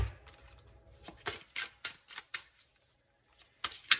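Numerology cards being shuffled close up, a run of short crisp riffling bursts in a quiet room with brief pauses between them.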